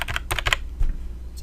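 A short burst of typing on a computer keyboard, a few quick close keystrokes clustered together and then a single later tap, with no talking.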